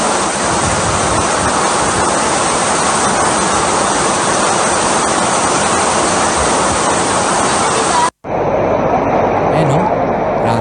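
Typhoon floodwater rushes in the Philippines as a loud, continuous roar of churning water that fills the whole stretch, cutting out abruptly for a moment before resuming.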